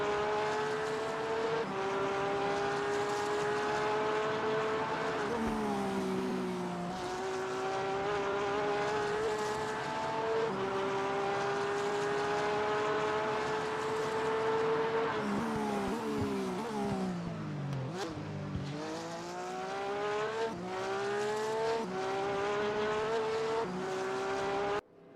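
Race car engines in the RaceRoom racing video game during an esports race, a steady high-pitched whine that rises and drops with gear changes and corners, continuous and loud with some tire noise.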